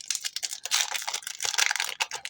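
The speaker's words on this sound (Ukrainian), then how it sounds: "давайте цей пакетик розпакуємо" A plastic packet of collectible football cards is torn open and unwrapped up close, giving quick bursts of sharp crinkling and crackling plastic in an uneven rhythm, with no voices.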